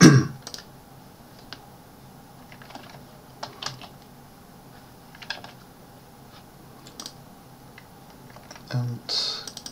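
A computer keyboard is tapped in sparse, light clicks, a few quiet keystrokes scattered over a near-silent background with occasional louder clicks.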